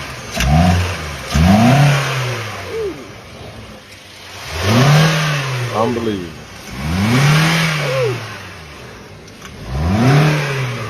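A damaged, smoking car engine revs hard again and again while running rough, each rise and fall of the revs up close and loud, with people talking and exclaiming over it.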